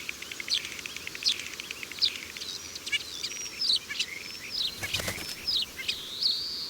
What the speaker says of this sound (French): Cet oiseau montagnard est le casse-noix